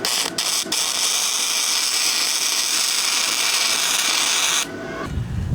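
A Vevor MIG-200 flux core welder tack welding scrap metal gives a loud, steady crackling buzz that runs for several seconds, broken by short gaps, then cuts out near the end.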